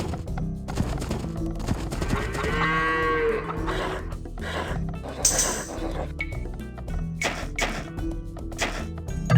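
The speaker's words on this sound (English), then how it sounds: "You found some sheep." Animal calls sound in the Age of Empires II video game, a sheep bleating voiced as a couple of drawn-out, moo-like cries over layered game music and ambient effects, moderately loud and clear.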